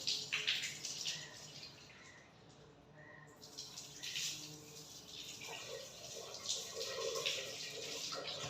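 Running water splashing as the face is washed during wudu, tap flow and hand splashes rising and falling in bursts, close and moderately quiet, with a few soft drips.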